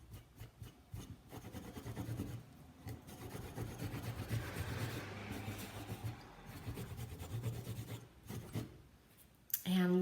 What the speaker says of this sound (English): And then I'm gonna turn my cloth. I'm buffing.